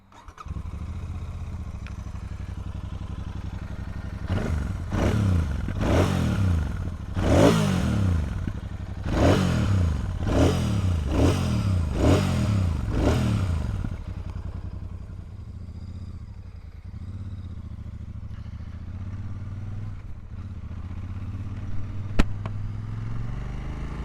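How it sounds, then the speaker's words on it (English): A Royal Enfield Super Meteor 650 engine revved repeatedly, a series of rising throaty exhaust blasts in quick succession, then settling back to a low, steady idle nearby. "Let you hear that exhaust note, which is quite lovely."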